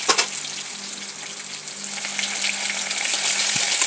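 Prawns frying in hot oil with popped mustard seeds, a loud close sizzle with crackles and occasional stirring that builds slightly over time, no talking.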